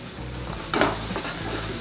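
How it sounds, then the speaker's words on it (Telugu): Chilli sauce is stirred into a chicken corn soup on the heat, with a soft background sizzle and a sudden close burst of stirring and scraping partway through, and no talk. "వేసిన తర్వాత మనం మంచిగా మిక్స్ చేసుకుంటాం, కలుపుకోవాలి"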